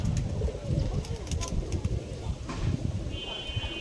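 Pet pigeons on an abandoned rooftop give low, rolling coos that pulse under steady outdoor background noise, with occasional voices and a brief high tone near the end.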